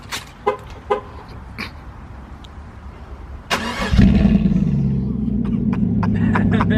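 A 2014 Chevrolet Silverado truck with an axle-dump exhaust and custom tip starts up after a few short clicks and a brief horn-like toot, then settles into a deep, steady, close idle rumble.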